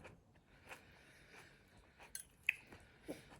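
Someone chews food while eating, with faint, close, irregular crunches and squishy bites scattered through a quiet room.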